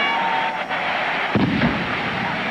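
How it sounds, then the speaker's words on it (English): A ceremonial cannon fires at a Texas Tech versus Texas A&M college football game after a field goal, one deep loud boom rising over steady stadium crowd noise. "as they fire the cannon with a 10-0 lead"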